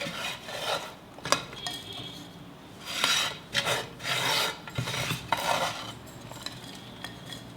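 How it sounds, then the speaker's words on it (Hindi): Soil mixture poured and scraped into a garden pot, giving dry rasping, gritty rustles in uneven bursts with a few sharp knocks, close and fairly quiet with no talking. "अब हम इसे अपने पॉट में डालेंगे।"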